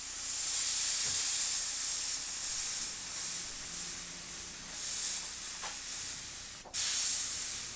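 An airbrush for painting gives a steady, thin hiss of spraying air that runs nearly unbroken, close and even, with a couple of brief sharper bursts toward the end.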